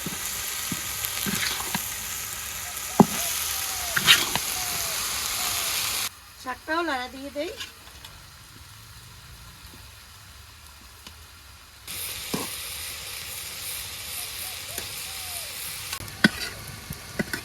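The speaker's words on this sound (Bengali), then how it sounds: "হলুদের গুঁড়ো দিয়ে দিলাম লবণ দিয়ে দিলাম এবার বাজিটা একটু লাড়াচাড়া দিয়ে দিই" Vegetables cooked with turmeric and salt sizzle steadily in a pan in a Bengali village kitchen, with stirring scrapes and clicks throughout. The frying drops away in the middle while a voice speaks over a quieter stretch.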